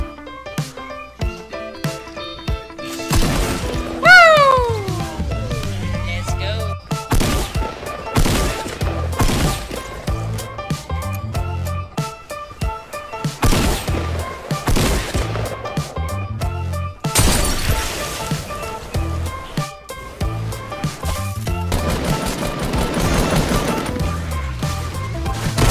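Gunfire in the video game Fortnite, with dense rapid shots and bursts mixed with game effects and occasional shattering, filling the clip with little talk.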